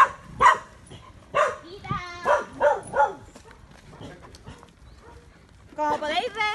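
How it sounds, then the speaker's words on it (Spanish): Puppies at an animal shelter let out a series of sharp, close barks in quick bursts, then fall quiet before a voice speaks near the end. "ahora vamos a ver los cachorros"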